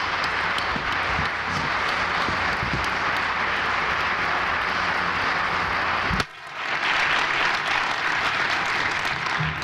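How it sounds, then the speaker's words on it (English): At an annual general meeting, a large audience applauds winning teams with a loud, dense, continuous roar of clapping that drops off sharply for a moment and then swells back up. "Yes, and a good hand of applause."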